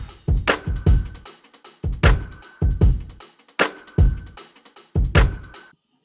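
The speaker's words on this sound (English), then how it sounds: "And so for the drums, I basically, they sounded like this." A sampled drum beat programmed in Maschine plays a punchy kick-and-snare pattern that repeats in even bars, with sharp hits and a short ringing tone, loud and clean with brief gaps between phrases.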